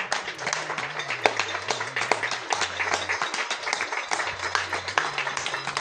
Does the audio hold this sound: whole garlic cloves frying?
no